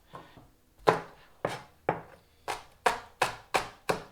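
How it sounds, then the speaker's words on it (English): A knife chops spring onion for a century egg and tofu dish, about eight firm, evenly spaced cuts against a board, close and clear with no talk. "And finally chop the spring onion."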